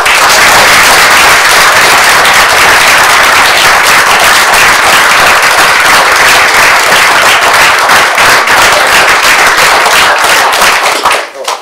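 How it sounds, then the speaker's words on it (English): Audience applause at a city council meeting in Mission: loud, dense clapping from a roomful of people that carries on steadily for about eleven seconds before tapering off. "If you will all please just join me in a round of applause for all three."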